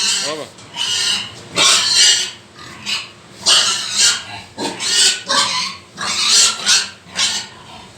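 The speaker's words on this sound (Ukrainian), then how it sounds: "Ну ось свинка кричить." A gilt pig squeals loudly and repeatedly in harsh, bursting cries, one after another, close up.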